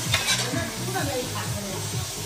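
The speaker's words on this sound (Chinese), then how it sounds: "炒菜的吗？" Food being stir-fried in a pan at home, a steady sizzle with scraping stirring strokes running through it.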